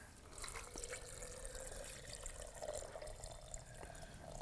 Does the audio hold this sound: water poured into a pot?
yes